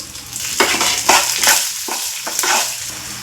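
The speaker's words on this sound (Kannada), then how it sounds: "ಬೆಳ್ಳುಳ್ಳಿ ಕೂಡ ಹಾಕ್ತದನಿ ಇವಾಗ ಇದನ್ನು ಸ್ವಲ್ಪ ಫ್ರೈ ಮಾಡ್ಕೋಬೇಕು" Garlic and cumin frying in a pan for a North Karnataka-style red chutney, a steady close sizzle with several louder stirring bursts as the spoon scrapes through the hot oil, no voices.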